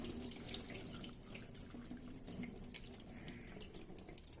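Starchy rinse water drains and pours from a sink in a steady, continuous rush, close and fairly quiet, with no voices over it.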